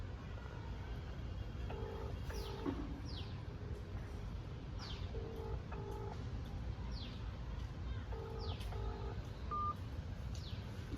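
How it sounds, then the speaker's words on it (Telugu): A phone call being placed: a series of short, clear keypad dialing tones in small clusters over a steady background hum, with faint chirps. "కార్తిక్ ఫోన్ చేస్తున్నా."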